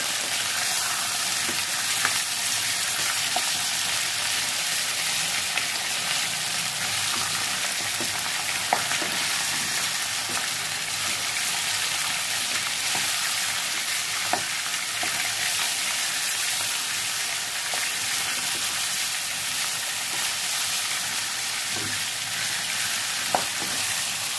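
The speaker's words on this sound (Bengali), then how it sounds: "চিকেনটাকে একটু ভেজে নিই" Chicken pieces fry in a pan with a steady, dense sizzle that runs unbroken throughout, and faint occasional pops sit over the hiss.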